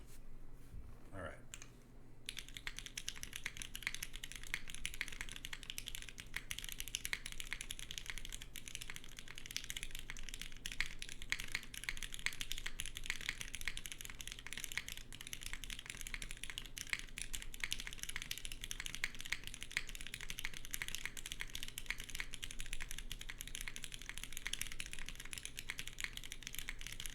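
Typing on a mechanical keyboard fitted with lightly lubed MX2A black switches in an aluminum case, a steady stream of close clicky-clacky keystrokes running throughout.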